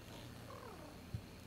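A cat purrs in The Sims 3 life-simulation game. The purr is a soft, steady, low rumble that stays faint and continuous, with one small thump near the end.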